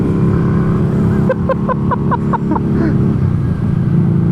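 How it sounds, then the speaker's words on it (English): Harley-Davidson Street Rod motorcycle engine running loud and close, a steady rumble broken by a rapid string of about eight sharp backfire pops and crackles in the middle. "I love that backfire that it has, that little pop and crackle that it does."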